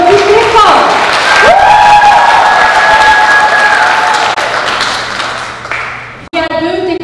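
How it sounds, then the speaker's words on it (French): An audience at a theatre performance of Antigone claps steadily for several seconds, a dense wash of applause with a whistle rising above it, before it tapers off and a voice speaks. "Il faut l'applaudir très fort."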